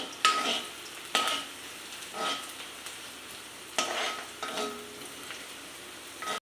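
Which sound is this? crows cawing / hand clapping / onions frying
onions frying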